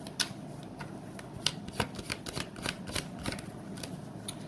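Tarot cards shuffled and drawn by hand, a quick run of crisp papery riffs and snaps close up, fairly quiet with no talking.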